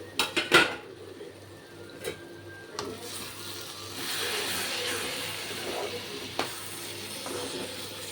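A cooking pot lid on an egg and ridge gourd masala lifts with a cluster of sharp metallic clinks at the start, then scattered knocks over a low steady hiss of cooking.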